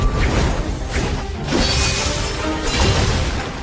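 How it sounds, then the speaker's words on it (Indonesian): A single sword slash, a sky-splitting technique, tears through and smashes everything in front of it, producing loud, dense crashing and whooshing debris that surges in several waves. "Terbukti hanya satu tebasan nyatanya mampu menghancurkan semua benda di depannya."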